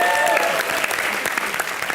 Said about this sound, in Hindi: इसके लिए बहुत सारी ताली बजाए इसने